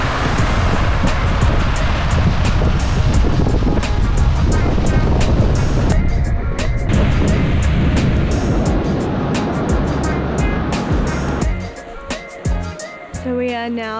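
Loud ocean surf washes onto the shore along New Zealand's Hump Ridge Track, a broad continuous roar with wind buffeting, fading near the end as someone talks over it.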